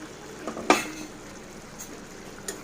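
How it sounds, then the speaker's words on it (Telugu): Andhra-style brinjal and raw prawn curry cooks in a pan, giving a quiet, steady simmering sizzle broken by one clear stirring scrape and a couple of fainter clinks. "మూత పెట్టుకొని మనం దగ్గర పడేంత వరకు ఎగిరించుకుందాం"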